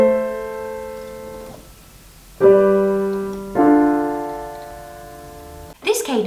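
Interrupted cadence, chord 5 moving to a chord other than 1, played as a few sustained keyboard-like chords separated by pauses, moderately loud and clean, with a brief bright burst at the end.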